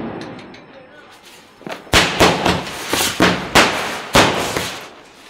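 Diwali firecrackers in Jaipur go off in a quick run of sharp, loud bangs after a brief buildup, about seven close blasts with echoing tails while people talk nearby.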